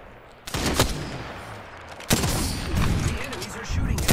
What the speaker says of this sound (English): enemies are shooting at you.